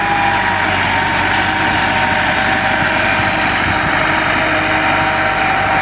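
A tractor engine runs steadily in a village field at harvest time, a loud, continuous mechanical drone with a constant low rumble and no change in pitch or rhythm, close by and without talk.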